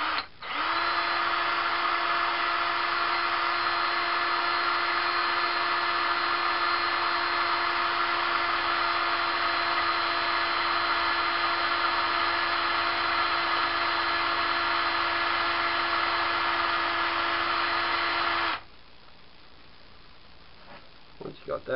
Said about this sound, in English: Got that hole drilled.